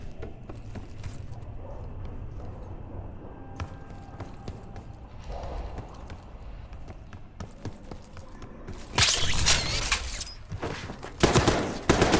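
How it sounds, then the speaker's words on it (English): Distant gunfire echoes in the Call of Duty Black Ops 6 video game, faint scattered shots that build into louder, sharp bursts of rapid fire toward the end. "You hearing gunfire?"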